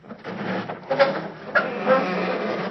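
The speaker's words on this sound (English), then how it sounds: "I'll open the garage door real easy." A garage door is eased open slowly, giving off a few squeaky creaks and groans over a low rumble of movement. No other sounds compete with it.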